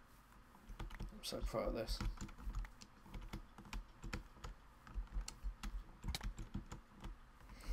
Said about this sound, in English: I just realised my keyboard is probably incredibly noisy